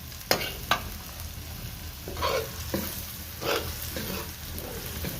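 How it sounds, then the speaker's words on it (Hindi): Chopped onions sizzle in hot oil in a pan while being stirred, with a steady background fry and a few sharp scraping stirs standing out. "प्याज भी अच्छे से फ्राई हो जाए तब तक थोड़ा हिलाना है"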